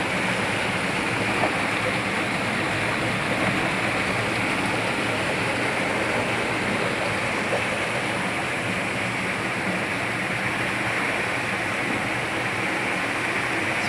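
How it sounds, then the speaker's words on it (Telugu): Water rushing out of a whirlpool in a rocky valley, a constant loud broadband roar of flowing water without pause, no voices. "ఇందులో నుంచి వాటర్ లోనికి వస్తున్నాయి ఫ్రెండ్స్"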